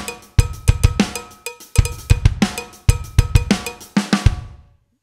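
A drum groove plays a tight, syncopated pattern of sharp cowbell strikes layered with snare hits and bass drum kicks. The sound is crisp and close, with no voices, before it stops and rings out.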